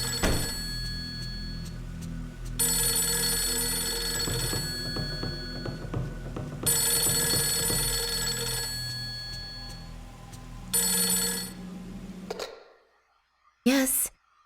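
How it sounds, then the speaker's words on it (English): An in-game telephone in the horror game Fatal Frame 3 rings in repeated bursts inside a manor, each loud electronic ring separated by brief pauses before the sound cuts off near the end. "Ah, it's the phone ringing."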